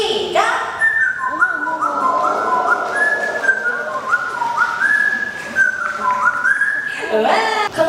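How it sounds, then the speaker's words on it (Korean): A person whistles a lively, bright melody of sliding and held notes, loud and close for about seven seconds, during a summer talk event about a panda family. "우리 휘파람 한번 불러볼까?"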